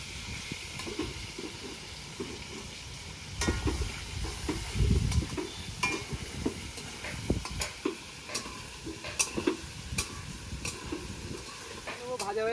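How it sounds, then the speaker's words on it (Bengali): Potatoes fry with turmeric in a pan at an outdoor picnic cook-up, giving a steady close sizzle and hiss broken by the scrape and clatter of stirring. "ভাজা হয়ে গেছে আমাদের আলু"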